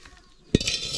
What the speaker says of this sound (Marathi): टोप ठेवते आधी चुलीवर.